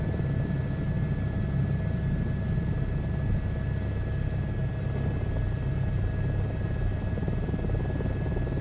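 Steady, loud helicopter rotor and engine drone from Microsoft Flight Simulator 2024, droning on without a break throughout, with a constant whine layered over the deep thrum and no talking.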